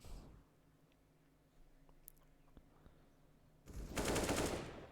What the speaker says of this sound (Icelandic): Jón heyrir þannig í skotunum úr mixinu